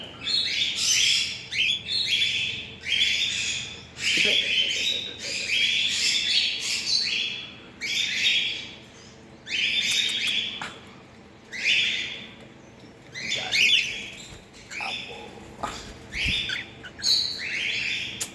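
Pet birds chirping on a home balcony, a lively chorus of repeated high tweets and squawky calls in bursts with short pauses, fairly close and steady throughout with no talking.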